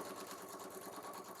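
A sewing machine stitching along a quilt border block, giving a faint, steady, rapid whirring hum that runs on without pause and without speech.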